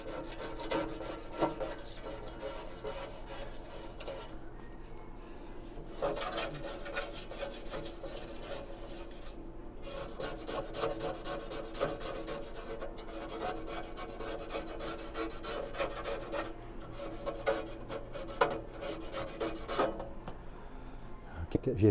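A hand scraper works the inside of a Tazza Caffe roaster oven in a cleaning job, giving repeated rasping, scraping strokes at moderate volume with short pauses between them, while a voice talks faintly in the background.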